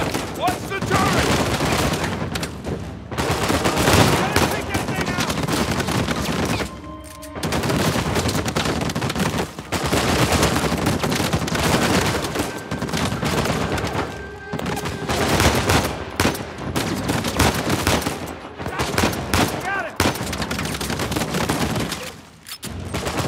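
Heavy turret gunfire in the video game Uncharted 4, loud sustained bursts with short gaps, booming impacts mixed in and game voices under the barrage.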